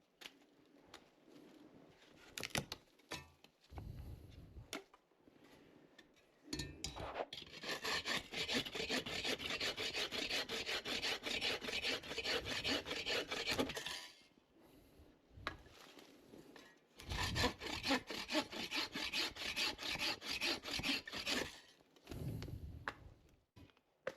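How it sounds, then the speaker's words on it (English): Agawa folding saw cutting through dry poplar wood at a marsh campsite, steady rasping back-and-forth strokes in long loud bursts separated by short pauses, close and alone. "The thing about these Agawa saws, they cut really well. I've cut a lot of wood with this"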